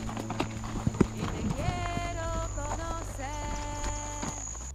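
Trail horses in Uruguay's mountains walking at a steady pace, hooves clip-clopping in a loose rhythm close by, with a sustained hum and some musical tones running underneath.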